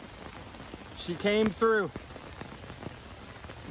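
Heavy rain pours down on a camping tarp during a storm, a steady dense patter throughout, with a short stretch of a person talking over it near the start.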